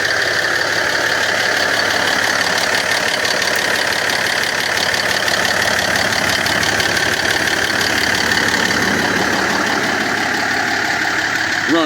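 A truck engine idling steadily with a heavy, constant rattle, loud and close, holding the same rough drone throughout with no letup.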